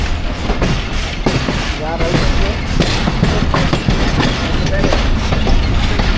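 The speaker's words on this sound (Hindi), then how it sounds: "कुंडिया जंक्शन पहुंच रही है जी ट्रेन 130 डाउन थल एक्सप्रेस" The 130 Down Thal Express rolls into Kundian Junction, a steady rumble of rail wheels and carriages with rhythmic clicks and clatter throughout, loud and continuous, with people talking in the background.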